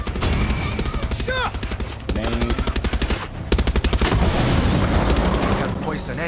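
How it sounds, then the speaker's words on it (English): Explosions and rapid gunfire blast through a Far Cry 6 firefight, with dense bursts of automatic shots and heavy booms in the game mix, and a voice talking over the action. "Grenade."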